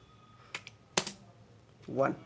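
Keystrokes on a computer keyboard as commands are typed, a few separate clicks and a short burst, close and fairly soft, with a voice speaking briefly near the end.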